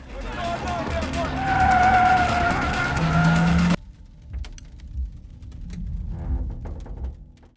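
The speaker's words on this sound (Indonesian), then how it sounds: "Lugo tertangkap setelah Victor menabraknya dengan mobil." A car skids with a loud, sustained tire squeal in a film scene, cut off abruptly before quieter scattered sounds follow, with speech over it.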